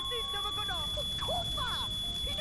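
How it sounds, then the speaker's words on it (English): A smoke alarm blares in The Sims 2 after a house fire breaks out in the game, a loud repeated electronic beeping that runs over excited talking and layered game sounds. "Well, the fire alarm. Oh, this is so loud."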